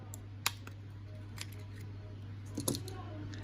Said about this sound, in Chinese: 首先呢，我们先把上面这块板给它拆下来，上面是卡扣设计